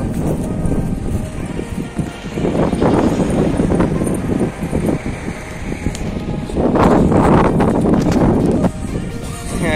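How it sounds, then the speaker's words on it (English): Wind gusts buffet the microphone outdoors at a tennis stadium on a sunny day, a loud rumbling roar that swells and fades, strongest near the end. "But it's windy as well, so this is why it's so cool."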